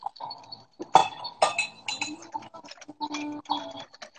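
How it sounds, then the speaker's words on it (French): A whisk beats batter in a glass bowl, making quick, irregular clinks and taps up close. The strokes come in uneven bursts, with no voices over them. "Remue bien, fouette bien ta pâte."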